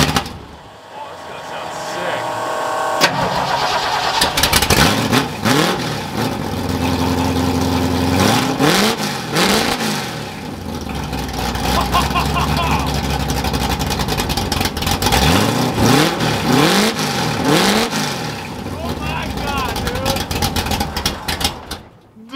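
A Ford F100 pickup with a custom, freshly tacked X-pipe exhaust and no muffler revs loudly and close up, pulling through several rising and falling sweeps over a rough idle between them.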